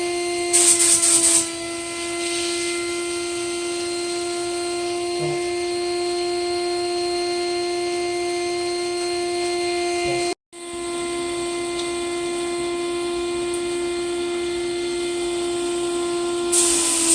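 Spray gun laying down a final coat of KBS filler on a 1959 Chevy truck, a steady close hiss of compressor-fed air with a continuous hum, one short break midway, no talking.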